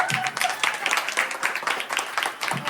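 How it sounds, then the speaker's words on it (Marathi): An audience at a comedy game event claps together for the winner, a short burst of dense, lively applause heard up close. "ताईंसाठी जोरदार टाळ्या"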